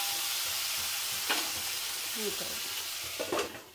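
Tomatoes frying in a pan for a tomato coconut chutney, giving a steady close sizzle with a few stirring scrapes and clinks, and no talk.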